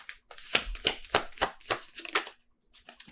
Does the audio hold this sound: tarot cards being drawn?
yes